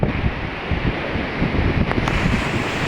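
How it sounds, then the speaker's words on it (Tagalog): Strong wind roars across a seashore with rough waves, a dense, loud, steady rush of noise battering the microphone with no voices. "Mahangin pa."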